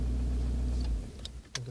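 A Volkswagen Golf Mk4 engine idles with a low, steady rumble for about a second, then shuts off, leaving a few faint clicks.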